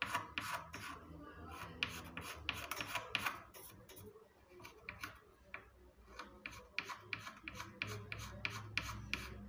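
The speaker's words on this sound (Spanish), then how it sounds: "Nivelamos bien con la navaja" A knife blade scraping excess dried filler level on a BC Rich Warlock bass body, quick repeated rasping strokes in an even rhythm, close and fairly quiet.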